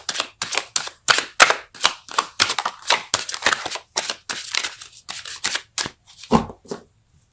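A tarot card is drawn from the deck during a love reading, heard as a close run of crisp, papery snaps and shuffling flicks in quick irregular succession, with no voices.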